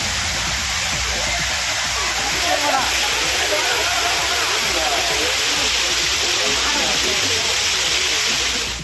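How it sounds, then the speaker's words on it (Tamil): Courtallam falls in Tenkasi district, including the Main Falls, Five Falls and Tiger Falls, roar as a steady, dense wash of rushing water that runs continuously and fairly loud. "குற்றால மீனருவி, ஐந்தருவி, புலியருவியில் தண்ணீர் வரத்து சீராக இருந்த நிலையில்"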